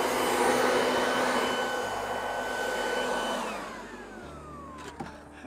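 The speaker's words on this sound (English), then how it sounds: "now you just take the leaf blower, slip it in the end of the downspout" Leaf blower roaring loud and steady as it forces gutter debris out through a downspout with a 10-foot wand, its pitch sliding down near the end as it winds down, followed by a few knocks.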